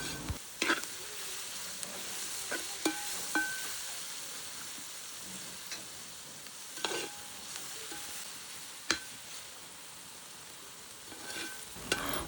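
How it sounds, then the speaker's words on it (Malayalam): Sliced onions and shallots sizzle in a pan while being stirred, a soft continuous fry broken by scattered scraping clinks of the spoon, with no voices. "ഈ ഉള്ളിയുടെയും സവാളയുടെയും കളർ ചേഞ്ച് ആവുന്നത് വരെ നമുക്കിത് നന്നായിട്ട് ഇളക്കിക്കൊണ്ടിരിക്കണം"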